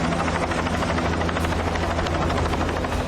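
A rescue helicopter flies over a flood zone in Nepal, its steady loud rotor chop and engine drone filling the whole stretch without pause or voices.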